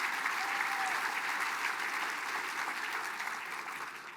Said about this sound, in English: Let's give them a round of applause for the work they do for the band.